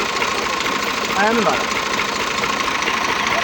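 Tractor engine idling in a village, a loud, steady mid-pitched rumble with a voice speaking briefly over it.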